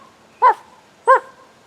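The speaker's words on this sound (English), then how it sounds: "the dogs found the cave and they began to bark" Two sharp dog barks about half a second apart in a quiet outdoor setting, loud and close, hunting dogs at a mountain cave.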